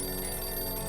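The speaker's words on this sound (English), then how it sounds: "Oh, phone ring." A phone rings in the 60 Seconds! Reatomized survival game, a steady continuous electronic ringing tone filling the short moment, loud with no voices.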